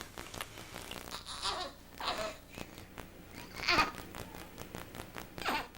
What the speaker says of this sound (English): Newborns make lots of funny noises.